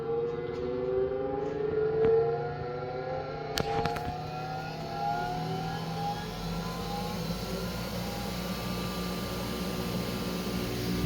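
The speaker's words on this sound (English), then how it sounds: "You can hear the brake system kick in" Bench grinder on an Odiz safety stand, wired for 240 V but run at 120 V, spinning down as its brake engages: a falling motor whine with a couple of sharp clicks, fading to a low hum.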